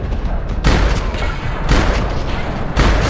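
Three shotgun blasts in the Rockstar video game Max Payne, each a loud, booming shot with a sharp onset and rolling tail, spaced about a second apart over a low background rumble.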